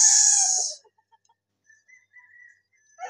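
A seven-month-old stag gamecock gives one loud, harsh call up close, followed by a few faint, soft clucks and quiet gaps.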